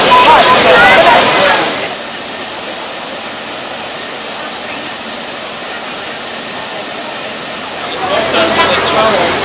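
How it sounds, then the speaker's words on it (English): Heavy water pours into an Erie Canal lock chamber at Fairport, New York, a loud, continuous roaring rush of falling and churning water close by, swelling louder at the start and end. "All water flows here just to the left."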